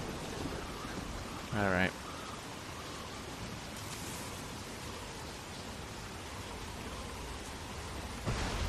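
Stormy night rain pours in a video game scene, a steady dense hiss of rainfall throughout, with brief spoken words early on and a faint low rumble.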